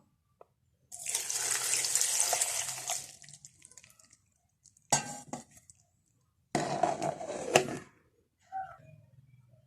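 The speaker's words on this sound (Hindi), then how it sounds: "थोड़ा सा पानी डाल लूँगी।" Water poured while making guava juice, heard as a steady splashing pour for about two seconds, then shorter bursts of pouring with a few clinks of vessels, close and fairly quiet with no talking.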